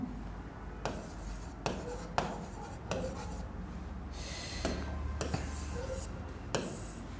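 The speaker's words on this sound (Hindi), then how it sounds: "इसको मैं इधर लिख देता हूं" Chalk or marker writing on a board during a math lesson on hyperbolas, heard as scratchy strokes and sharp taps in irregular bursts, close and fairly quiet, with no voice over them.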